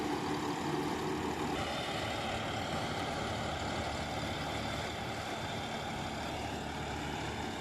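A John Deere 5075E CRD tractor engine running in a banana field, a steady moderate diesel drone that continues without a break.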